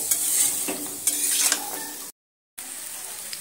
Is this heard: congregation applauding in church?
no